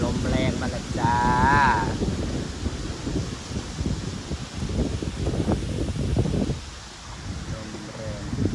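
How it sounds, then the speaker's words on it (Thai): Strong gusting wind buffets an outdoor riverside spot as a storm approaches, a steady broadband roar with louder surges and brief lulls, while a voice talks briefly early on. "คืนลมแรงมาแล้วจ้า"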